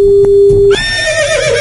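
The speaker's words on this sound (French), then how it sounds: "Il y a toujours un cheval sur la ligne." A horse whinnies over a telephone line during a French radio call-in show, a steady tone first, then a loud, close, descending neigh with trembling harmonics lasting about a second, heard alone without talk.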